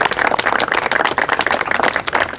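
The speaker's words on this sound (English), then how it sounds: "Let's give them a round of applause for it." Dense, steady applause from an audience at a National Police Week event, many hands clapping at once in a continuous wash with no voices over it.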